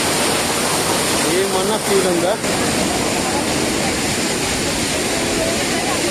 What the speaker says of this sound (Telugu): ఆ వాటర్ ఫాల్ దగ్గరికే వెళ్తాం మనం